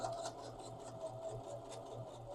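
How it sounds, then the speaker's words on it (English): A Brother FB1757T sewing machine stitches fabric, giving a faint, steady mechanical whirring with a soft rhythmic needle pulse throughout and no talking. "and I'm sewing, and I'm sewing, and I'm going to keep sewing"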